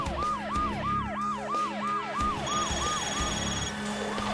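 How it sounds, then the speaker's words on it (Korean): A fire truck siren wails loudly at a nighttime warehouse fire, fast rising-and-falling whoops repeating in a steady rhythm over engine rumble and scene noise. "소방차 사이렌 소리가 귀청 찢어지게 요란하게 울리고 있는 가운데"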